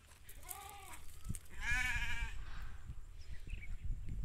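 Sheep on a village farm in Kenya bleat close by, two drawn-out wavering calls in quick succession followed by quieter rustling and faint background activity.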